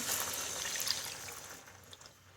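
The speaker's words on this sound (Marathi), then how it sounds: "त्यामध्ये पाणी ॲड करूया साधारण ते दीड वाटी" Water poured into fried masala for dum aloo makes a brief splashing hiss and sizzle that fades after about a second and a half.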